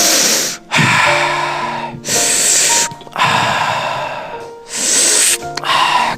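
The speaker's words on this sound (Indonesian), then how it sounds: "Tarik nafas dalam-dalam sebanyak 3 kali." A person takes three deep, loud breaths close to the microphone, each a long airy inhale and exhale separated by brief pauses.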